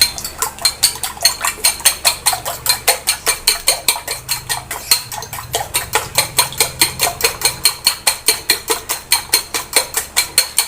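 A metal spatula stirs homemade sisig with egg in a pan, making a steady, rapid run of loud metallic clanks and scrapes in an even rhythm. It is close and continuous, with no talking.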